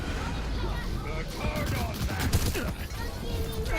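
Overwatch match gunfire, a rapid crackle of shots and impacts layered under constant game noise while people talk over it throughout.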